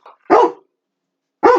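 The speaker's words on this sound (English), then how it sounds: "We don't even know what they were barking about." Two dogs bark indoors in two loud, close bursts separated by about a second of silence, with a faint yelp at the very start.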